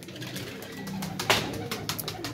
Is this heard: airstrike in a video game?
no